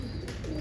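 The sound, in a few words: pigeon cooing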